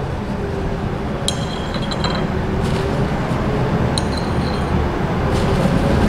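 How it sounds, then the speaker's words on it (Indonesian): A glass stirring rod mixes a salt solution with indicator drops, clinking sharply against the container three times over a steady hiss. "Kita aduk."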